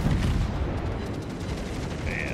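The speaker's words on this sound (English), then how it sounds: "I wonder if I can sneak a few rounds over." Naval gunfire rounds boom in a video game sea battle, a loud, dense rumble of heavy shots blending into a continuous roar for a couple of seconds.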